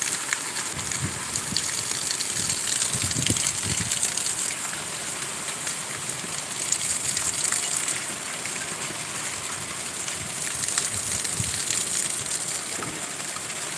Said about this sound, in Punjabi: ਬਹੁਤ ਤੇਜ਼ ਫਰਾਟੇਦਾਰ ਮੀਂਹ ਹੈ ਇਸ ਵਕਤ ਆ ਗਿਆ ਹੈ ਜੀ